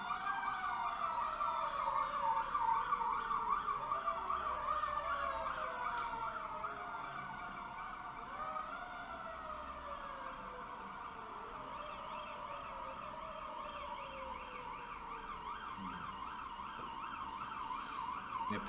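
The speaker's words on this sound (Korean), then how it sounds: "밖에 소방차하고 응급차가 지나가서 사이렌 소리 때문에 잠깐 멈췄는데" Fire engine and ambulance sirens pass outside, wailing and yelping in sweeping, overlapping tones that hold steady at moderate distance and slowly fade, with no talking.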